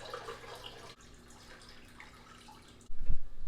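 Salt water drips faintly during drip acclimation of rose bubble tip anemones, a scattering of soft droplets over a quiet background, ending in a louder splashing burst.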